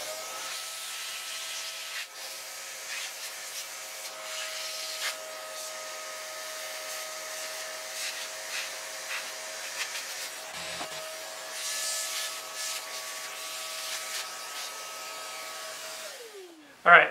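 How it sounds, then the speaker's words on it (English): Steady mechanical whirring with a sustained tonal whine, a vacuum cleaner wand sucking dust from a laptop close by for a long stretch, then cutting off abruptly at the end. "So I got the wand of the vacuum here, and let's see what we can do to suck things out."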